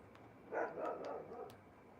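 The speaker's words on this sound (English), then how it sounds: "We have a dog barking" A dog barks a few times in the background of a home livestream, muffled and moderately distant, in a short burst against quiet room tone.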